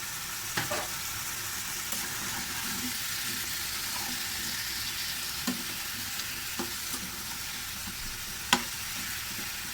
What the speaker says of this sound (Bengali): দিয়ে দিছি সয়াবিন তেল, পেঁয়াজ কুচি, বাটা মরিচ, লবণ, হলুদ, মিক্স মশলা, ঝাল মরিচ পাউডার, কষিয়ে নেব